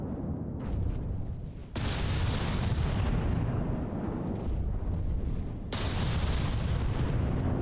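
Heavy HESH and HEAT shell barrage from battleship guns in the naval combat game From the Depths, a dense continuous roar of booming cannon fire with sharper volleys breaking in at intervals, loud and sustained without talk.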